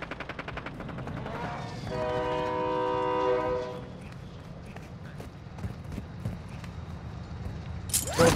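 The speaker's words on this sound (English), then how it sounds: "just sounded like a real goddamn train" A train rumbles past with a loud, steady multi-tone horn blast lasting about two seconds, followed by fading rail noise and a sharp burst at the end.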